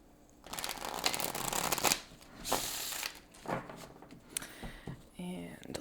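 Tarot deck being shuffled by hand, with several riffling and sliding bursts of card sounds close up, coming in irregular waves, followed by a brief pause and a few soft taps.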